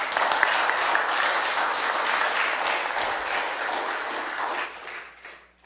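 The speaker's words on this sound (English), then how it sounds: "Would you guys give her a round of applause for me?" Steady applause from a church congregation, dense clapping filling the room at even strength before dying away at the end.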